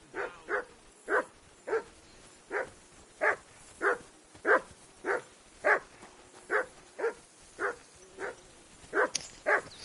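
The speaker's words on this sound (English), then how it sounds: "Whistle at that mutt of yours to stop barking." A dog barks in the video game Kingdom Come Deliverance 2 with a steady, evenly spaced series of about sixteen sharp barks at moderate distance. No talk is heard over them.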